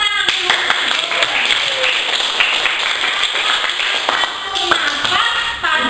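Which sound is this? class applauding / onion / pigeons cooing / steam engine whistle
class applauding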